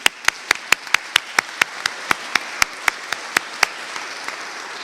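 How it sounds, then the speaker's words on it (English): A round of applause at a perovskite and silicon heterojunction tandem solar conference session, heard as a steady run of sharp, evenly spaced claps in a room, with no talking. "Please join me in a big round of applause."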